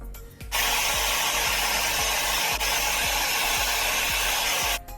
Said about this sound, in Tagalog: So, ngayon, bablower na natin siya.